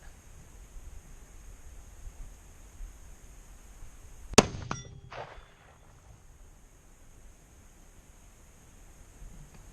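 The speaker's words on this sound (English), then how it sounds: "you almost knocked the gong over" A single sharp gunshot on a farm range is followed almost at once by the ringing clang of a steel gong target, which fades within a second, and quiet outdoor hush follows.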